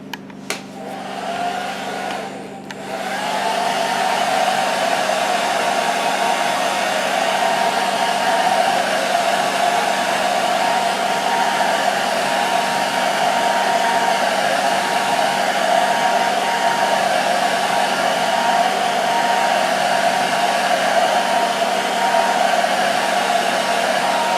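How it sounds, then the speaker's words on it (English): A hair dryer, used to dry layers of a homemade zombie-guts prop, switches on and blows with a steady, loud whirring hum that continues unchanged. "Then take your hair dryer."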